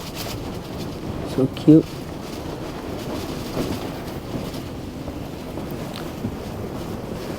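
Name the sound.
strong wind outside a yurt in Mongolia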